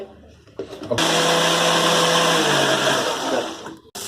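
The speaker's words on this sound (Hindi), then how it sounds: "पालक का पेस्ट मैंने इस मिक्सी में डाल दिया है" A mixer grinder blending spinach paste with green chillies whirs loudly and steadily for about three seconds, starting abruptly after a brief quiet lead-in, then cutting off near the end.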